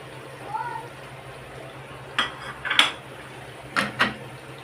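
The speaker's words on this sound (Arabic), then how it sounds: "اديها تقليبه" Vegetables cooking in a pot with mixed colored peppers, stirred with a utensil that clinks and scrapes against the metal in a few short bursts over a low hum.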